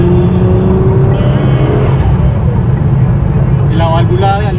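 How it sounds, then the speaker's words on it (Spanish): A 1000-horsepower Nissan GT-R drones loudly and steadily under acceleration, then releases several short sharp hissing blow-off valve bursts near the end. "La válvula de alivio suena increíble."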